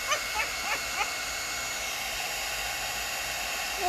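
A heat embossing tool blows hot air in a constant hissing whoosh, with a few soft knocks early on and no talking.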